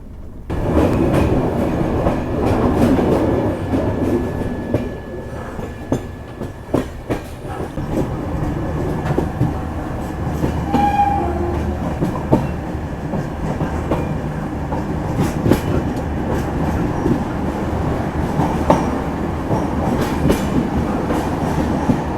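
Amritsar–Chandigarh intercity express 12242 rolling along the rails near Beas Junction: a steady, loud rumble with rhythmic wheel clatter and occasional metallic clanks that runs the whole time, with no talking.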